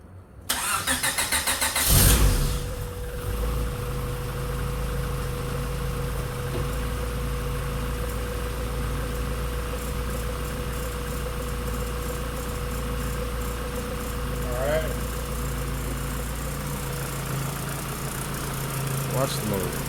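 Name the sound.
Honda Civic EF car engine idling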